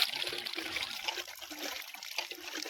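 Tap water runs steadily onto fresh chicken being rinsed clean for a clay-pot chicken curry, a continuous close splashing trickle with no voices.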